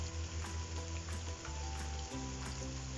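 Steady sizzling of garlic and ground spices such as red chili and coriander frying in oil in a pan while cooking egg and chickpea pulao, close and continuous with no talk.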